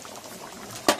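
Chicken curry with potatoes bubbling at a low simmer in a covered pot, a soft steady burble ending in one sharp clack near the end, no voices.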